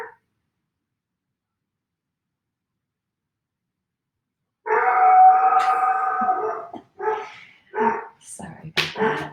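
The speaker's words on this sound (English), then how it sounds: "there's my dog deciding to bark in the middle of Shavasana" A dog barks and howls indoors during a quiet relaxation pose, a loud sustained howl followed by several sharp barks after a stretch of near silence.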